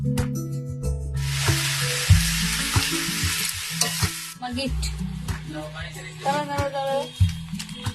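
Chicken kosha cooking in a pot over a wood-fired stove gives off a loud hissing sizzle for a few seconds, followed by softer stirring and clinks while a person talks over it.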